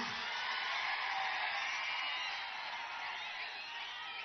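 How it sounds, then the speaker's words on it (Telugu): Sustained roar of a packed political rally crowd shouting and cheering for Pawan of Jana Sena, a thick, even wall of voices that holds loud and steady, easing slightly toward the end. "మీ అరుపులు, మీ కేకలు"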